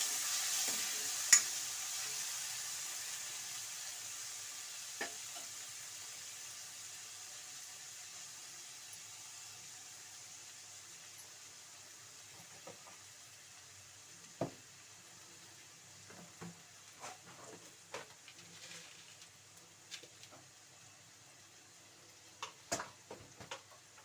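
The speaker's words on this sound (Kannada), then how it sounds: "ಬೆಳ್ಳುಳ್ಳಿ ಶುಂಠಿ ಪೇಸ್ಟು ಟೊಮಾಟೊ ಹಾಕಿ ಒಂದ್ಸಲ ಫ್ರೈ ಮಾಡ್ಕೊಳ್ಳಿ" Onion, garlic ginger paste and tomato sizzle softly in a pan, a quiet steady frying hiss broken by scattered clinks and scrapes of stirring, growing busier toward the end, with no voices.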